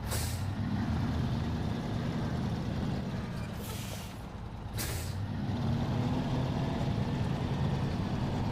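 Heavy truck engine droning steadily in the video game SnowRunner, with two short hissing bursts of air brake release partway through, close and loud, no talk.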